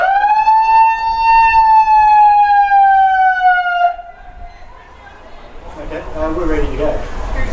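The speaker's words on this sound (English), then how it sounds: "That's the siren." A loud, sustained sports ground siren at a football grand final wails steadily for about four seconds, then cuts off, leaving crowd noise and chatter rising in the background.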